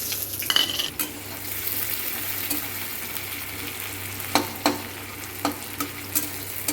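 Cumin seeds, garam masala and a dried red chilli crackle and sizzle in hot oil, with a steady hiss and a few sharp clinks and scrapes of a spoon against the pan.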